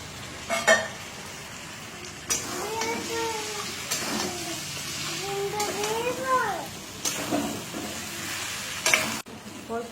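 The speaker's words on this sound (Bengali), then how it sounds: "এবার আমি পেঁয়াজ কুচিগুলোকে একটু ভাজা করব লাল লাল করে। মাছের মাথাগুলোকেও দিয়ে দিলাম এর মধ্যে।" Chopped onions and fish heads sizzle and fry in a pan, a steady hiss broken by sharp clanks of stirring, while a voice talks over the cooking.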